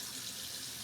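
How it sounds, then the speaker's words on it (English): Hot tap water runs in an unbroken, even stream for under a second as a container gets rinsed, with no voices. "Now, you pour the water out, wash it, hot water, but no soap, no nothing, just water."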